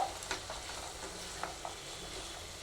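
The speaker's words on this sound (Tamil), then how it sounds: "இப்போ இது நல்லா வதங்கிடுச்சு பீன்ஸ் போடுறோம்" Green beans tipped into a pan of sautéing vegetables for rava kichadi: a steady, quiet sizzle of frying with a few light stirring scrapes and small taps.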